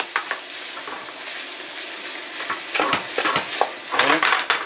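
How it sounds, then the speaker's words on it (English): Onions, bacon and ham sizzle steadily in a pan while a utensil stirs them, giving close, continuous frying crackle broken by repeated scraping strokes, louder near the end. "So we'll keep stirring this for a while, mixing everything."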